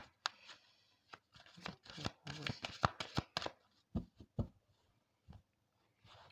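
Tarot cards are shuffled up close before the deck is cut, giving quick bursts of riffling and tapping with short pauses between them.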